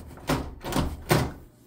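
A bathroom door lock being worked, heard as three distinct close clunks and clicks spaced roughly half a second apart, fairly quiet and with no talking.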